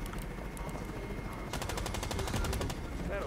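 Rapid automatic gunfire from a gun in a video game, a steady fast burst of evenly spaced shots starting partway in and running to the end at moderate loudness, over a faint background hum.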